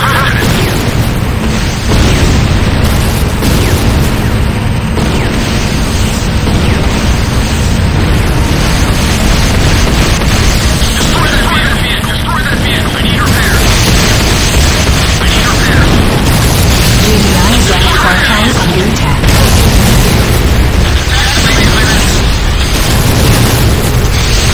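Structures blowing up in the Command & Conquer Renegade video game: a loud, continuous barrage of booms and bursts with crackling debris, layered under an announcer voice and other game sounds throughout.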